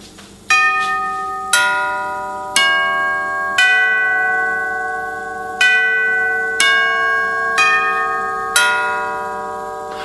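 A serviced 1965 NuTone L Model eight-note door chime plays its full tune: eight clear, ringing metallic strikes at a fairly even pace, each note sustaining and decaying into the next, loud and close with no talking.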